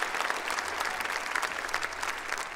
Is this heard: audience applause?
yes